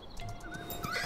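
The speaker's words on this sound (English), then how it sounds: "Oh, you shot my donkey" A donkey in a Roblox Wild West game, heard as a horse-like bray or whinny mixed with hoof clip-clops, brief and fairly loud over game ambience.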